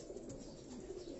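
Kamgar breed pigeons coo softly and continuously at close range in a loft, a low murmuring burble with no talk.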